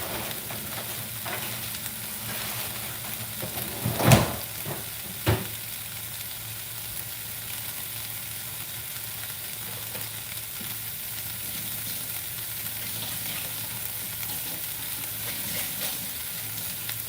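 Stir-fry vegetables saute in a hot pan with a steady, broad sizzle and crackle running throughout, broken by a couple of sharp utensil clanks near the start.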